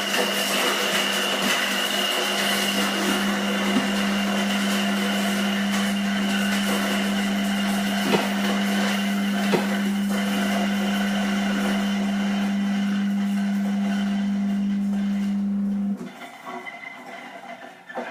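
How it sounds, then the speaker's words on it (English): A grinding machine pulverises dried cinnamon quills into powder, a loud steady whirring drone with a strong constant hum that runs unbroken for about sixteen seconds, then cuts off abruptly into near silence. "we've taken the quills, we've put it through the machine, and we've produced the powder"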